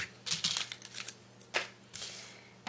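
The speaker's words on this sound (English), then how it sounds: "I'm just going to cut away my excess here" Paper being cut away around a metal die shape for a rosette, with scissors snipping and the paper crinkling in several short, light, close-up bursts, fairly quiet.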